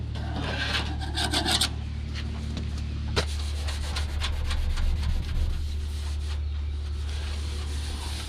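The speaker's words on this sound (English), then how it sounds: "Scrape every direction to try to get the sharp edges off." Sharp, rusty metal edges on a 1956 Chevy truck bed being scraped in every direction: dense, continuous rasping strokes, close and loud, with a low steady hum beneath and no talking.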